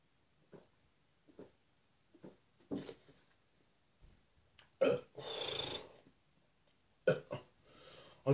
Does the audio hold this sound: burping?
yes